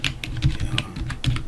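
Rapid, irregular clicking of keys on a computer keyboard, close and moderately loud, as someone types on a Windows PC with no talk over it.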